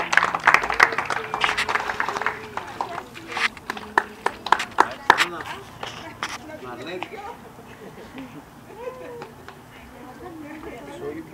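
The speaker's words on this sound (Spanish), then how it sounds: "Palmas al Señor amado" A church congregation claps along with singing at a baptism service, giving irregular sharp bursts of hand claps that are loudest early and thin out as voices carry on.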